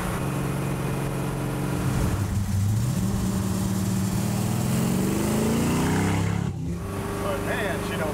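A high-powered classic Mercedes car drives along at about quarter throttle, a loud, steady engine hum heard from the cabin with pitch rising and shifting as it pulls, under people talking.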